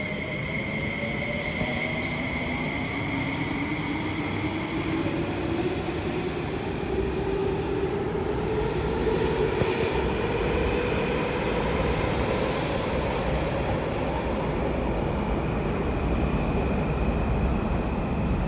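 A metro train passes through Nam Cheong Station with a loud, steady rumble of wheels on track and a rising electric whine that holds for the whole pass. No one speaks.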